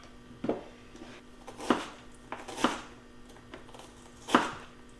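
A knife cuts through a potent onion with several sharp, distinct chops at an irregular pace, close and clear against a quiet kitchen background.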